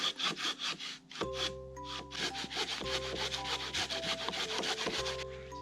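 A hand saw cuts into a tree trunk outdoors in rapid, rhythmic back-and-forth rasping strokes, loud and close, with a steady low hum running underneath.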